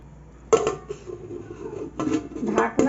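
A spoon stirs home-style mixed dal with water in a metal pot, giving a few bright clinking scrapes in two short bursts, close up, with a quiet pause between.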